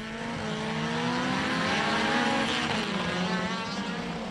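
Race cars, including a Mercedes 190, roar off the start of a circuit race heat at Dracon Circuit, engines rising loudly together in a dense, sustained blare of revving motors.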